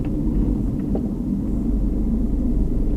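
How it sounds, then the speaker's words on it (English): A learner's car judders in too high a gear at low speed: a steady, heavy low rumble with slight pulsing, heard from inside the cabin with no talking. "can you hear the car juddering"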